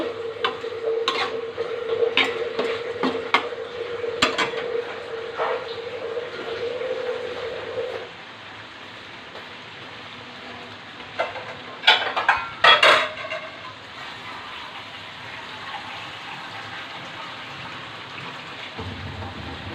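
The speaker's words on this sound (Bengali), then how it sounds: "কলজাটা আমার কষানো হয়ে গেছে এখন পানি অ্যাড করে দিব" A steady sizzling hiss of frying in a pan, with clattering clinks and knocks of a utensil, then louder bursts of splattering as water hits the hot oil and braised liver.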